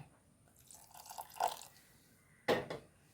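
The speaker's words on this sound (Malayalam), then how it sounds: "കുറച്ച് ചൂടുവെള്ളം ചേർക്കുന്നുണ്ട് അധികം ചൂട് പാടില്ല കേട്ടോ" Warm water pours into a snack mixture in two short splashing bursts, the second louder. Quiet pauses separate them, and there are no voices.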